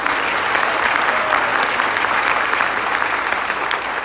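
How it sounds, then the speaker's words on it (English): Sustained, loud applause from an audience honoring a team at a college minority-excellence center's African American History event, a steady, dense wash of many hands clapping throughout with no one speaking over it. "So please give my team a round of applause"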